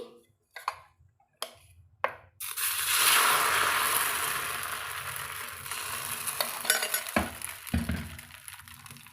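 Appam batter is poured into a hot pan and cooks with a steady, close sizzle that swells after a few soft knocks and clinks at the start, with a couple of light taps near the end.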